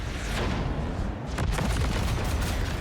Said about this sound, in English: Now let's order an airstrike.